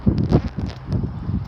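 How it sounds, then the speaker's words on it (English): Wind gusting on a windy night in British Columbia, a broad rushing and buffeting noise close to the microphone with some rustling and no voices. "Windy night here"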